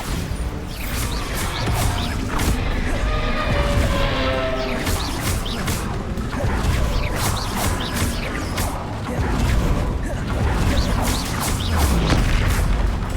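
Bombarda exploding spell in Hogwarts Legacy, dense booming blasts and crashing impacts with whooshes over continuous game noise, loud and sustained.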